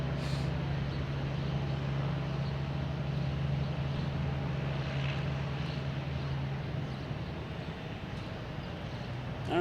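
A Spirit Airlines airliner at Boston Logan Airport, its engines a steady broad roar with a low droning hum, loud and continuous throughout with no voices.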